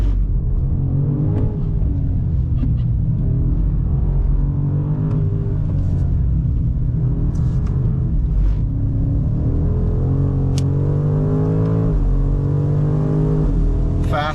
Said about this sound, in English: Gentle throttle, then wide open.